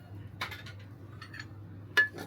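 Metal spoon clinking and scraping against a pot while gram flour batter is stirred with water, a few sharp taps spaced apart with quiet pauses between.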